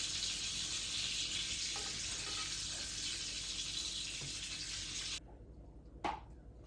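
Bacon frying in a hot pan, a loud steady close sizzle that cuts off sharply near the end, followed by a single brief clatter.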